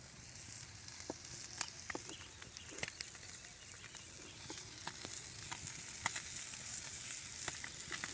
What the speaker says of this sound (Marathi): दुसऱ्या बाजूने आता भाजण्यासाठी पलटी मारायचे आहे आंबळी माशांना